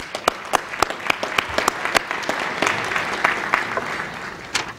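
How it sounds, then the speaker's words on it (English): An audience at a community foundation annual meeting claps for board members, sharp individual claps ringing out close and steady over a short burst of applause. "You all guys all deserve a well round of applause as well."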